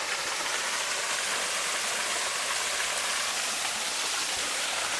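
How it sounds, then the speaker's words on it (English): A small waterfall near Sigulda, Latvia, pours in a continuous broad rushing hiss, steady and close with no breaks, heard alone without voices. "I hope you enjoyed this little waterfall as much as I did."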